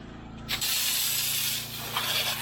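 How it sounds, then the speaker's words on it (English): Pressure washer set to auto spray for a house wash, bursting on after a half-second of engine hum into a loud steady hissing spray over the machine's continuous low drone. "put it on auto spray."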